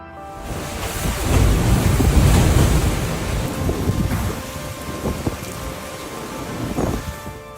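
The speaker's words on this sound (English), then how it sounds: "One of the fiercest storms in decades ravaged Taiwan." Typhoon Kong-rey lashing Taipei, Taiwan, with a loud roaring wash of wind, heavy rain and surging water, building to a dense rumble then easing slightly, with gusts buffeting the microphone.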